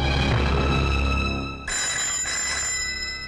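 A telephone rings with a steady electronic bell tone, sustained and fairly close, then shifts to a brighter ring partway through.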